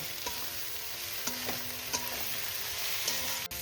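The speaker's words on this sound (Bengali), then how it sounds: "এবার মশলার সাথে ভালো করে আলু সমস্ত কিছু ভালো করে কষিয়ে নেব" Potatoes and pumpkin stir-fried with spices for a Bengali kumror chokka, giving a steady low sizzle with a few scraping stirs of a spatula against the pan and no talking.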